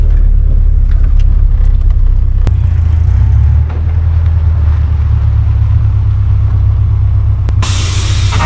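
A car drives past outdoors at a campground, a loud steady low rumble with hissing road noise that rises briefly near the end.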